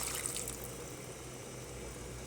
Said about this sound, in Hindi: 1 गिलास पानी का ऐड करेंगे।